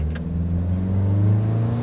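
A 93-horsepower convertible car pulling away from a stop, its engine note rising steadily into a loud, close rumble with wind noise and no talking.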